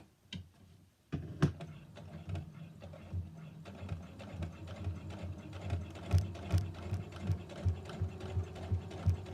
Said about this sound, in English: I'm actually on my quilting machine right now.